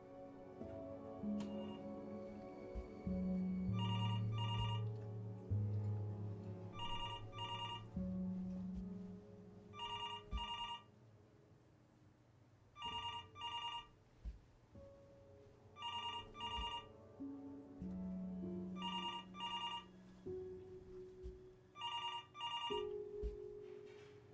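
A telephone rings in the video game Before Your Eyes, sounding in repeated short double bursts at regular intervals over a soft, sustained musical score.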